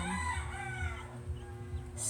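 A bantam rooster crows nearby, one drawn-out cock-a-doodle-doo with low clucking from other chickens underneath.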